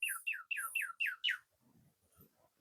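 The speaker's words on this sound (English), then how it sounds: "I can hear a male cardinal up there." A male northern cardinal calls six quick, loud descending whistled notes in a rapid series, then falls silent apart from faint background noise.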